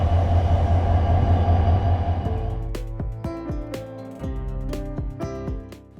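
An EMD GT18 diesel locomotive train rumbles loudly at close range, its deep engine drone fading into clattering wheels and metallic squeals over track joints.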